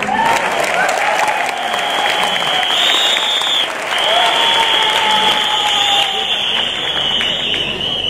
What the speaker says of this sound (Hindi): और तालियां ही बजानी है तो जरा दिल से बजाओ यार।